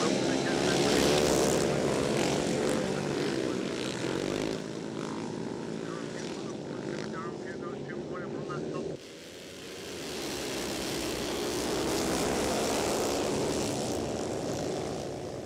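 500cc grass track racing motorcycles roar off together at the start of a race, a loud, sustained engine drone that shifts in pitch as the bikes pass, with a commentator talking over it.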